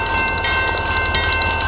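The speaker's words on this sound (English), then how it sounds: "caught that stone train up here." A loaded stone train rolls past with a steady, loud rumble of wagons and a sustained tonal ring, continuous with no voices.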